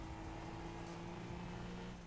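Rocket League car accelerating, a steady, droning engine hum with a constant tonal whine that holds level and fairly loud for the whole stretch, with no talking.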